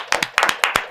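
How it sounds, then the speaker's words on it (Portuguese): Sharp, close hand claps during a podcast, about seven distinct slaps in one second, sounding like only a few people clapping rather than a full crowd. "Salve de palmas para a maravilhosa."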